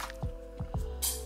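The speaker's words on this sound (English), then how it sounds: "Now see that it's bubbling" A few soft bubbling plops of water heating in a steamer, about three in quick succession, followed by a brief hiss, over a low steady hum.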